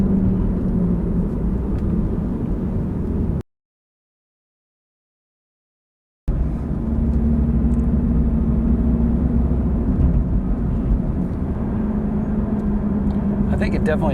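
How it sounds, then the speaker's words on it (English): Steady tire and road roar inside a Subaru BRZ cabin at highway speed, a continuous low rumble with faint voices, briefly cut to silence partway through before the droning road noise resumes. "I feel like I almost hear the tires sticking and pulling off the ground."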